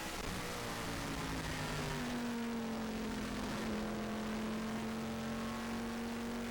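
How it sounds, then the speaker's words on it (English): A stock race car at a USAR Hooters Pro Cup oval race, its engine droning steadily at moderate distance as the driver eases smoothly on and off the throttle, pitch gently rising and falling. "Listening to him smoothly on and off the throttle."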